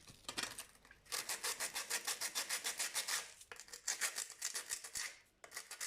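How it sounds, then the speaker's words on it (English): Coarse number 40 sandpaper rubs along the side of a cast cement shape in quick, rhythmic back-and-forth strokes, a close, dry rasping with short pauses between bursts. "I'm using number 40 sandpaper, and I'm just sanding along the side."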